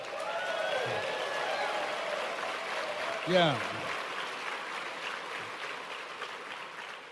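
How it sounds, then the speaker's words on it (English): A seminar crowd at a motivational speech gives a round of applause, a steady wash of clapping that runs the whole time, with a short spoken word and faint voices over it. "Give her a round of applause."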